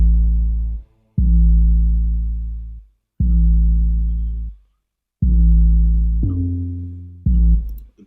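A distorted, slightly detuned 808 bass in a beat plays on its own as loud, deep sustained notes in a repeating pattern with short gaps between hits, heard clearly and without other instruments or talking.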